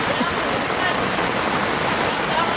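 Floodwater rushes steadily through a flooded residential subdivision, a loud, unbroken roar of churning water filling the whole clip, with a voice faintly underneath.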